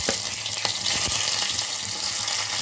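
Curry leaves and onion fry in hot oil, giving a steady broad sizzle with a few soft clicks, fairly close and with no voices.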